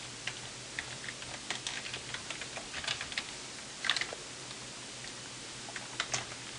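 Typing on a computer keyboard while writing Erlang code, with a steady patter of soft, close key clicks, a few heavier strokes and short pauses, and no talking.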